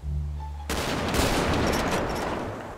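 Sniper rifle shots in a GTA 5 roleplay game with a Brazilian army squad firing together: after a quiet lead-in, a sudden loud burst of gunfire lands, followed by sharp cracks and echoing reports that hang on for a couple of seconds.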